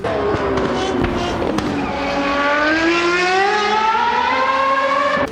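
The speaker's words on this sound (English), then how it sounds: "Now I'm driving the V12 version of the FRX 90 car, simply because, oh, well, just listen to that sound." A V12 FRX 90 race car in the RaceRoom racing game screams loud and close, its engine note climbing steadily through the gears over five seconds, with no talk.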